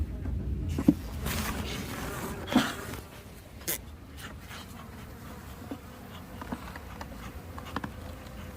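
Honeybees buzz steadily in an opened beehive, packed between the insulation and the divider board, a dense, close hum with occasional brief knocks and rustles from handling the hive.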